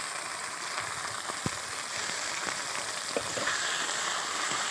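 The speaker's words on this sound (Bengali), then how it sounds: "এই মশলাগুলো একসঙ্গে দিয়ে ভালো করে ভেজে নিতে হবে।" Onion paste and ginger-garlic paste frying with spices in a pan for a spicy chela fish curry give a steady, close sizzle, with occasional soft stirring taps throughout.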